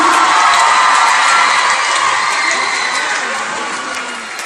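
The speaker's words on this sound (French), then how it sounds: "Du bruit pour Jean-Paul Rouve." At the Grand Rex cinema in Paris during an Aladin premiere, a packed audience cheers, whoops and claps in a loud continuous roar that slowly tapers off toward the end.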